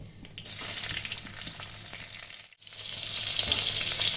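Tomato frying in hot oil, cooked for steamed hilsa (ilish bhapa), gives a steady loud sizzle with a brief dip mid-way before the crackle swells back stronger.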